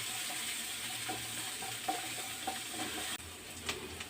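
Mustard seeds and big onions stirred while frying for carrot tomato rice, a fairly quiet steady sizzle with occasional soft ladle taps, the sound dropping slightly near the end, without speech.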